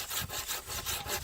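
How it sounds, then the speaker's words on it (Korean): A hand saw cuts firewood at a campsite in steady back-and-forth strokes, about five rasping pulls in quick rhythm, close but fairly quiet. "톱질 잘하시는데요?"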